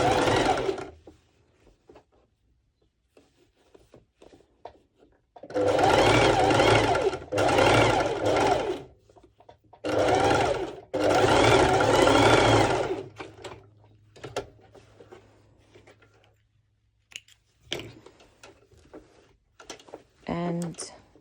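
A domestic sewing machine runs in several short bursts, stitching parallel seams on ruched leggings, close and clattering, with quiet pauses between runs and occasional soft handling noises.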